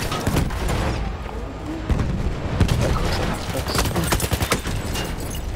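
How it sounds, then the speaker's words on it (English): A video game battle with dense explosions and gunfire as a grenade is thrown at a tank, loud booms and crackling shots layered continuously, with a voice now and then. "Did I at least blow up the tank?"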